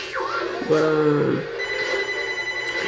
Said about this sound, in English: that's the phone ringing